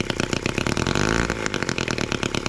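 An M14 twin-cylinder tractor engine running on both cylinders, with a loud, close, steady chugging beat and a brief surge of throttle partway through.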